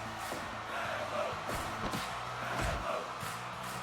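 A wrestling crowd at a house show roars and cheers in a steady wash of noise, with louder swells and thuds from the ring breaking through now and then.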